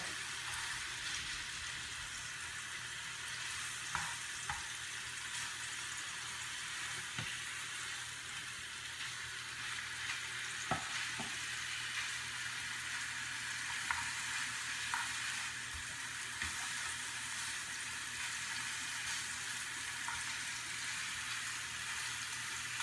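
Garlic longanisa sausage frying and browning in a pan over medium heat, a steady soft sizzle with a few faint clicks of utensils, no talking.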